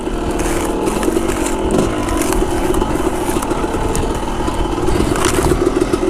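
A dirt bike engine fitted with a Lectron carburetor revs hard and steadily throughout, a loud, close, continuous buzzing drone with rising and falling throttle, and no talking over it.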